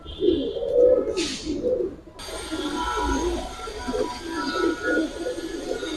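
Giribaz pigeons, a pair of young adult high-flyers with kajal and army-pattern coloring, coo in repeated throaty pulses close by, joined by a brief higher chirp early on and a faint background hiss.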